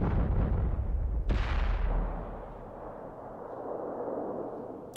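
An M44 self-propelled artillery gun fires one loud, booming shot in a tank video game, the sharp blast followed by a long rumbling decay and low battlefield ambience.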